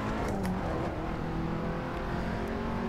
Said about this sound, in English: I'm going to be driving the KTM X-Bow R around Imola because this car absolutely rocks my socks.